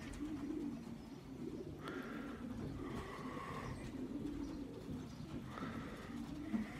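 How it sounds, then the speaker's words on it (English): Pigeons coo softly inside a loft, several low rolling calls repeating at an unhurried pace over a quiet, steady background hum, with no talking. "And pigeons are immaculate, you know."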